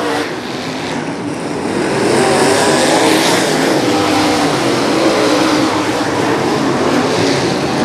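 Modified race cars roaring past on the Macon Speedway dirt oval, engines swelling loud from a distance into a sustained close howl, while an announcer's voice talks over the cars.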